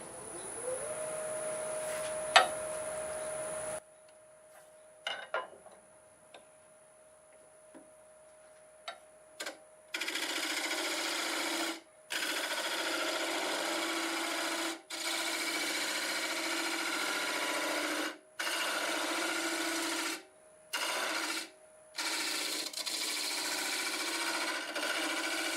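A wood lathe turns a sequoia vase while a tool flares its opening, giving a steady, fairly quiet whir broken into several cuts with short pauses, after an opening stretch of thin tones and sparse ticks.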